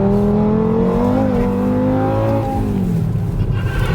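A Golf R fitted with a swapped Daza engine revs hard and close, its pitch climbing and falling in smooth harmonic sweeps over a steady loud drone, with no talking over it.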